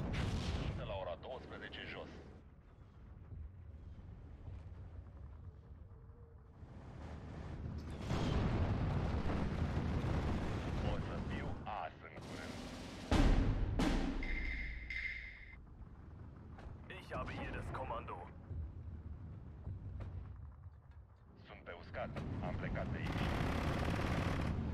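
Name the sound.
artillery fire in Steel Division 2 video game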